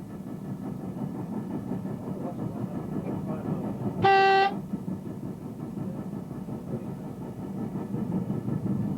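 A train on the Manchester Piccadilly to Altrincham line in 1992, curving onto the line from Liverpool via Warrington: a steady low rumble of the train running, with a short loud horn toot partway through.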